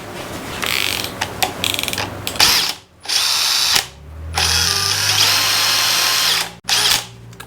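A Makita 40V XGT GPH01 hammer drill bores with a 1-inch speed bore bit in loud, close bursts of whirring motor and grinding cut, stopping briefly twice before spinning up again.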